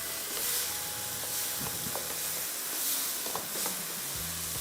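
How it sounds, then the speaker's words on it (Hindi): Prawn masala gravy of tomato, onion and whole spices sizzles steadily in a pan, a continuous close frying hiss with occasional stirring scrapes. "ये ग्रेवी को हम फ्राई करते जा रहे हैं।"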